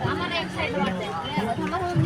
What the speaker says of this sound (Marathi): केवढी गर्दी आहे बघा भावनो